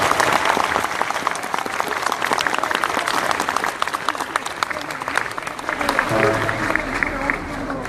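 Sustained applause from an outdoor street-rally crowd in Seomyeon, Busan, honoring the children of the Sewol ferry families; dense, steady clapping fills the whole stretch, with a voice briefly rising near the end.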